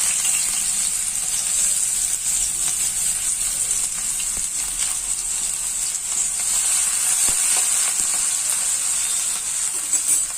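Sliced onions go into hot white oil for a Bengali fish chop, giving a loud, steady close-up sizzle with faint stirring clicks, and no one speaks.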